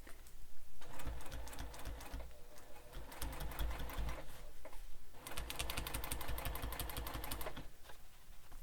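Sewing machine stitching a seam on a backpack, two bursts of rapid, steady mechanical chatter separated by short pauses, close and moderately loud.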